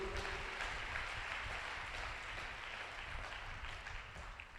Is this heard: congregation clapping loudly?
yes